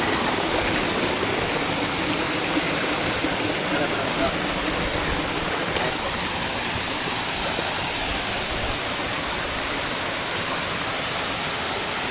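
Loud, continuous rushing of a stream tumbling over rocks in Junagadh, a dense steady roar that fills the whole scene without pause.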